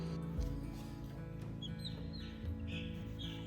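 Baby chicks that have left their brooder heater, chirping in high peeps over a busy, noisy background with low rumbling and other clucking fowl sounds.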